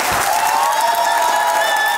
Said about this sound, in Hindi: आपकी भरपूर तालियों में इरफान कुसैद और रुबीना अशरफ